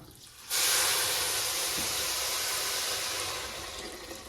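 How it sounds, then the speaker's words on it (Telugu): Hot water pours into a pot of rice for pulav with a sudden, loud, steady rushing hiss that starts half a second in, carries on evenly and fades a little toward the end. "ఇప్పుడు అయితే six glasses water heat water పోస్తున్నాను నేను"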